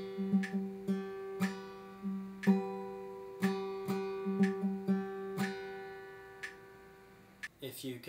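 Metronome ticking steadily at 60 beats per minute, one sharp click about every second, close and clear, with acoustic guitar notes from Blackbird played softly along underneath.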